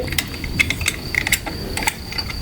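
Wrench working the wheel weight bolts on an old tractor, a run of short metallic ratcheting clicks in quick irregular bursts, close and fairly loud over steady background noise.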